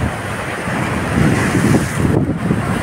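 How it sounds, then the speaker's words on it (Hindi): Strong water rushes and roars at Mohanpura dam in Rajgarh, a loud, steady broadband torrent mixed with gusting wind on the microphone, with no speech over it. "देखिए बहुत तेज पानी आ रहा है यहाँ पर।"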